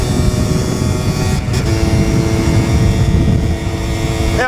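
Yamaha DT50LC small two-stroke motorcycle engine revved up during a clutch demonstration, a loud, steady buzzing whine that dips briefly before holding high again, with a sharp rise at the very end.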